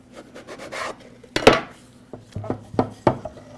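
A knife cuts supple homemade guitar spaghetti dough into even lengths on a wooden board, giving a series of sharp close chops and scrapes in an uneven rhythm, with no talk.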